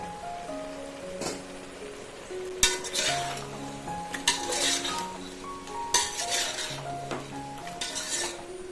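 Cut raw jackfruit added to a biryani pot and stirred, with close metal spoon scrapes, clinks against the pot and soft wet stirring in irregular bursts.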